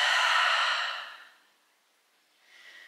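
A single deep exhale during a yoga flow, a soft, breathy rush of air lasting about a second that fades to quiet, followed by a faint start of another breath.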